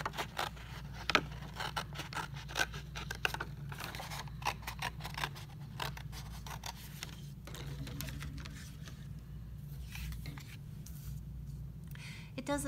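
Scissors cut a traced circle out of cardboard, making continuous close snipping and scraping with a rough, uneven rhythm, and nothing else stands out.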